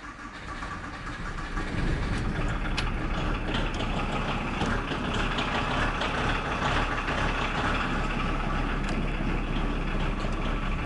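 A truck engine idles with a steady, loud low rumble that settles in after the first second and holds evenly throughout, with no voices over it.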